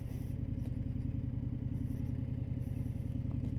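A 2025 Indian Scout Bobber motorcycle rolls slowly up to a dealership's front door, its engine putting out a close, steady throbbing rumble with light mechanical clatter.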